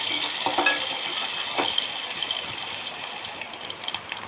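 Mustard seeds pop in hot oil in a pan, giving a continuous bright sizzle with scattered small crackles and bursts, close and fairly soft, with no talking.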